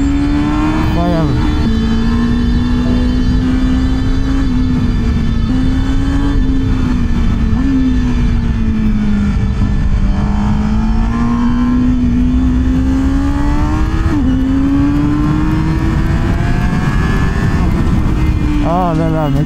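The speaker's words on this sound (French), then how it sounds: "elle est incroyable la CBR dans les tours" A Honda CBR1000RR-R SP motorcycle engine on a Swiss road, revving high: a loud, sustained engine drone with the pitch rising and falling through gear changes, close and continuous, with wind noise and occasional speech.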